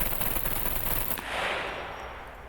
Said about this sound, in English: we're going to keep firing this thing until we get some weapon malfunctions